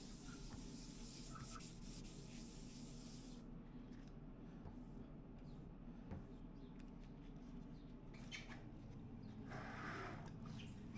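Wet or dry paper at 800 grit wet sanding primer on a BMW 235i in a body repair shop, a soft continuous rubbing hiss over a low steady hum.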